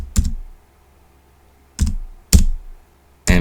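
Four sharp clicks from a computer keyboard come in an uneven sequence, close and distinct, with quiet gaps between them and no voices.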